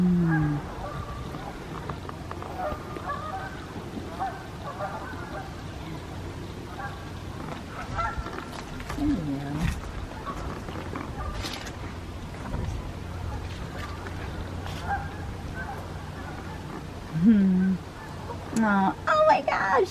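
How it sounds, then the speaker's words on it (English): A flock of geese on a lake on an autumn trail in upstate New York: scattered honks ring out near and far over breezy outdoor ambience, with a loud burst of honking and splashing toward the end while people talk. "Oh, there's a ton of geese out there."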